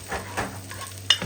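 Garlic, onion and ginger sizzle softly in a pan as a utensil stirs them, with a few light scrapes and one sharp clink near the end.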